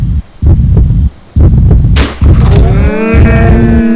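Heavy, booming heart throbbing in the video game Mindcelium, loud thudding pulses in uneven bursts, joined midway by a sharp rising tone and a ringing, warbling whine, with no talking.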